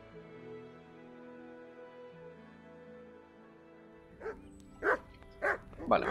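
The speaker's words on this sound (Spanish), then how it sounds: "Coño, el perro, los ladridos del perro." A dog barks in the video game Kingdom Come: Deliverance, four sharp barks arriving in quick, uneven succession near the end after a stretch of quiet tonal background music.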